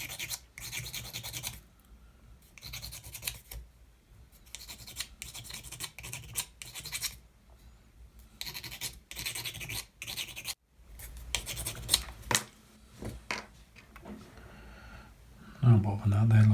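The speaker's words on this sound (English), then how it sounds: "Just need a slight sanding with the nail file." Rasping scrapes of a nail file sanding small plastic parts for a Yamato model battleship, coming in repeated bursts of strokes separated by short pauses, close and moderately loud, with a brief louder knock near the end.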